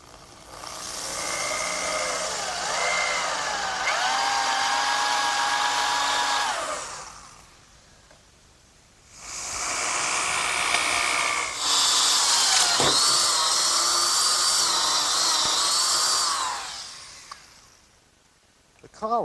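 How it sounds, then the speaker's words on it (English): A power drill driving a 1 3/8 inch bit through a 2x4 of oak for a bench screw hole gives two long, loud whining runs separated by a brief pause. "I'm ready to drill a hole through the 2x4 in oak for my bench screw."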